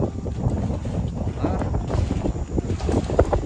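Strong gusting wind at Gun Creek buffeting the microphone, a loud uneven rumble with bursts of rushing noise throughout.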